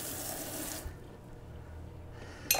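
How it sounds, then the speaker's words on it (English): Knife rinsed under a running kitchen tap while cooking mahi mahi, a steady broadband rush of water for most of a second that cuts off, followed by quiet and a brief splash near the end. "Rinse off the knife."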